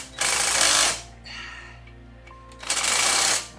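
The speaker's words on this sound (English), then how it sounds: "It's a very, very small impact attachment." A small JobMax impact attachment driving a bolt during a coolant pump replacement on a Lincoln LS gives two loud, close bursts of rattling hammering, each under a second long, with a quieter gap between them.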